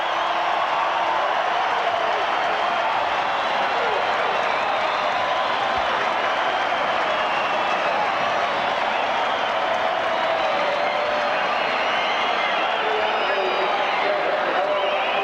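Stadium crowd at Lang Park roaring and applauding after the 1991 New Zealand versus Australia rugby league third Test, a loud continuous wash of cheering that holds steady throughout.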